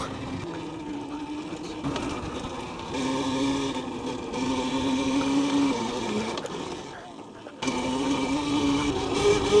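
Droyed Berserker electric pit bike being ridden in wheelies, a steady motor whine rising and falling in pitch over continuous road and wind noise, with a brief dip before surging again near the end.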